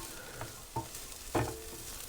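Chicken pasta ingredients sizzling gently in a pan on a stove inside a VW T4 camper van. Under the soft frying hiss come a few brief scrapes of a spatula stirring.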